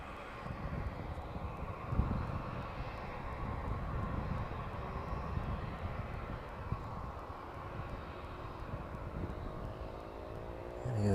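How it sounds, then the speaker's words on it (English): A Boeing 737 airliner passes by at East Midlands Airport after landing on runway 27, a broad steady engine roar that holds loud and even throughout, with no talking. "a dual view of the 737 there as it passes by"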